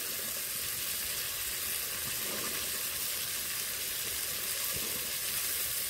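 Green peas tipped into a hot pan and frying for matar paneer, a continuous dense sizzle and crackle with faint stirring scrapes, steady and close with no talking.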